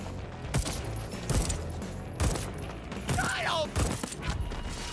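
Rapid bursts of gunfire ring out in Deathloop, several sharp shots spaced irregularly across a few seconds over a busy game backdrop, with mechanical clanks and a brief whistling effect mixed in.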